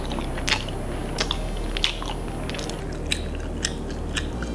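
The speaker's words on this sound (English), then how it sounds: "It's hearing somebody chew with their mouth open." Someone chewing with their mouth open, wet crunchy bites and smacking at irregular moments, close to the mic over a faint low hum.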